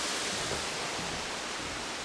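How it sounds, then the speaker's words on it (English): Carlson Waterfall on Mount Kinabalu pours in a constant, even rush of falling water, a soft broadband roar heard at some distance along a mountain trail, steady throughout with no voices. "This is called the Carlson Waterfall."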